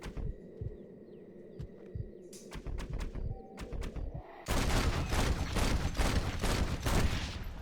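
Revolver gunshots in Red Dead Redemption: a few sharp shots ring out over quiet outdoor ambience with birds, then a loud dense burst of rapid gunfire takes over for the last few seconds.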